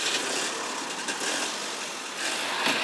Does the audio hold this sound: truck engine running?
yes